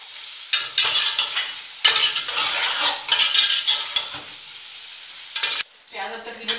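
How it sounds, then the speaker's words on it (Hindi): Onions frying in a pan with cinnamon, green cardamom, black pepper and cloves for chicken biryani: a steady close sizzle broken by repeated scraping stirs, with a brief clink of a utensil near the end. "इनके साथ ही प्याजों के साथ ही हम दालचीनी, सब्ज इलायची, काली मिर्च और लौंग शामिल करते हैं।"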